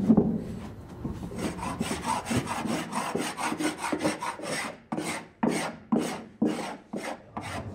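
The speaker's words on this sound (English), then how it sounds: "We turn them over at least once a week and we rub them" A cheese rind in an Auvergne cellar is rubbed firmly by hand, producing close, rasping scrapes in a steady back-and-forth rhythm that become more distinct, separate strokes toward the end.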